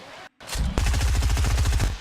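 Rapid automatic gunfire from the video game Fortnite, a steady, loud spray of shots in fast rhythm after a brief silent gap, with no talking.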